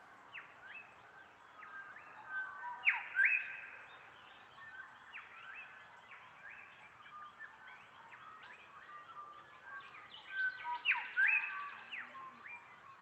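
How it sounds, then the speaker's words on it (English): Several song thrushes at dawn repeat the same phrase from different distances across roughly a kilometre, their clear whistled notes overlapping in bursts, some close and bright, others faint and far, with no talk. "you can hear probably about 4 or 5 different thrushes within, say, a radius of 1 kilometre that are all singing the same phrase."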